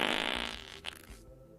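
A person imitates a fart with the mouth during a tabletop role-playing game session, producing one loud, spluttering blast that fades out within about a second.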